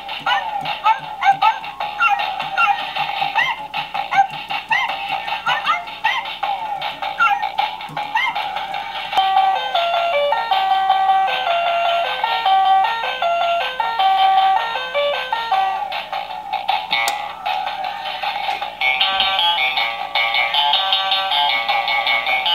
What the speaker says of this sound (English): Tap the head for barks, press the nose to change the instruments